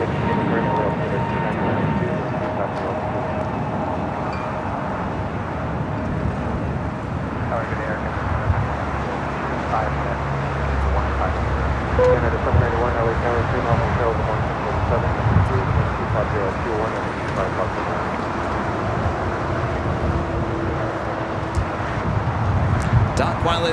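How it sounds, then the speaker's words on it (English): A China Airlines Cargo Boeing 777 freighter arriving from Taipei at LAX gives a sustained, rumbling jet noise that swells gradually, mixed with wind buffeting and a person talking over it. "Here we have China Airlines Cargo 5116 coming in from Taipei on this 777 freighter"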